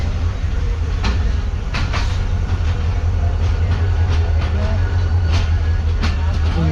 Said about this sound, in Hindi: फाइनली हमारी ट्रेन जो है वो बगैर रुके जो निकल चुकी है नवाबशाह रेलवे स्टेशन से।